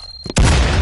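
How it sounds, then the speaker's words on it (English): Grenade explosion in the VR shooter Firewall Zero Hour: a sudden, loud, close boom after a quiet moment, with a heavy rumbling blast that holds strong to the end. "Grenade!"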